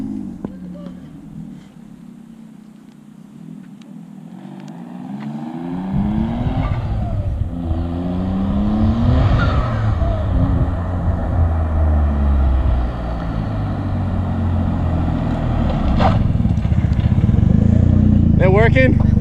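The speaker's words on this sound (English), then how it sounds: "He's currently testing the car right now." Infiniti G35 coupe on a test drive after a big brake kit job, its engine starting up then revving and accelerating loudly with shifting tones, heard close from inside while people talk over it.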